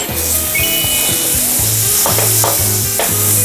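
Butter melting on a hot sizzling plate for tofu teriyaki, giving a steady loud sizzle and frying hiss with some stirring clatter, no talk.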